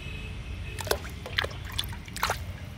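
A colorful monosex butterfly fish is put into water, making a few separate small splashes and drips spaced about half a second apart over a low, steady background hum.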